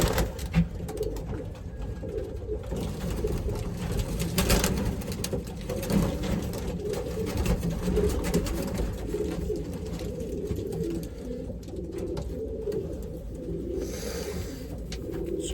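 Racing pigeons, including a blue bar bird, coo steadily in a loft. Soft, continuous murmuring coos overlap from several birds at fairly close range, with a busy rustling background throughout.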